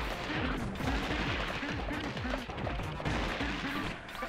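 Rapid retro video-game shots fired at a bomb in Gato Roboto, a fast string of sharp repeated blasts under a busy, noisy game background.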